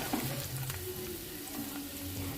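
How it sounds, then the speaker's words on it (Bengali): Paneer pieces frying in hot oil for a Bengali matar paneer, giving a steady close sizzle with a low hum beneath it over a brief stretch. "সেমভাবে বাকি পনিরগুলো ভেজে নিলাম"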